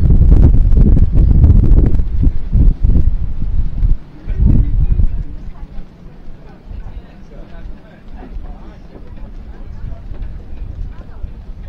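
Gusty wind buffets the microphone with loud rumbling blasts at first, then settles into a softer steady rush with faint background sounds.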